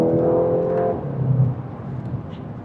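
A VW Golf GTI engine revs and whirs during a road drive, the note rising strongly for the first second before settling into a steadier, quieter drone with a brief surge mid-clip.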